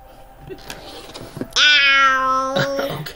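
A cat lets out one long, loud meow close by, preceded by quieter background murmurs and faint sounds.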